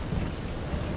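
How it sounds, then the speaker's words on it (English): In the Dark Souls Archthrones demo, a lightning urn strikes with a loud, dense burst of crackling thunder-like noise that fills the whole second with no pause. "Lightning urn."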